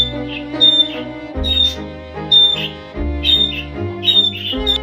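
A pet bird lets out repeated shrill screeches in a steady rhythm, loud and close, over a layer of music.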